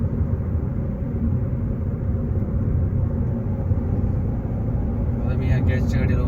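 A car overtakes a gas-powered vehicle on the road, heard from inside as a steady low engine and road rumble, close and continuous, with a faint brief rattle near the end.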